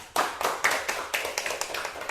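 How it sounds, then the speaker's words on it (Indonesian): A class claps for a student after her top score is announced: a short, thin burst of hand claps from a small group, fairly close and uneven, fading into scattered taps. "Tepuk tangan untuk Bulan."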